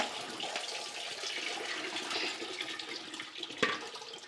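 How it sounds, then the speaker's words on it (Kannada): Water drains from soaked flattened rice, pouring and trickling steadily at low volume, a soft continuous wet rush with one brief louder splash near the end. "ನೀರು ಸೋರಾಯ್ಕೊಂಡು ಹಾಕ್ತಾಯಿದ್ದೀನಿ"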